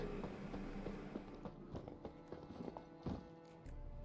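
Horse hooves clip-clop in the video game Witcher 3, a quick irregular patter of soft thuds over a low steady background, moderately faint.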